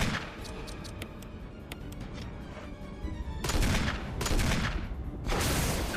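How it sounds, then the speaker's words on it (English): Rocket launcher firing in the video game Resident Evil (2002), heard as loud bursts of blasts and rumbling explosions that grow stronger toward the end, after quieter ticking game sounds. "Rocket launcher."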